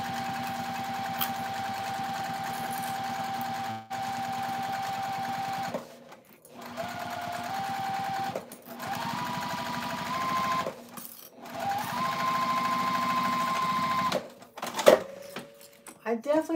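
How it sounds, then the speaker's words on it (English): A sewing machine stitches fabric layered with foam in long, steady, humming runs with brief stops between them, ending with clicks and rattles of the machine being handled. "let's sew this down"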